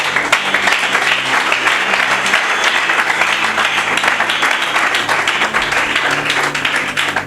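A church congregation breaks into loud, sustained applause and cheering for the Lord, a dense continuous wash of many hands clapping that holds steady throughout.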